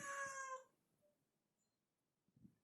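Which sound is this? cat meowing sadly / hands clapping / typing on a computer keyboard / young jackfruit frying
cat meowing sadly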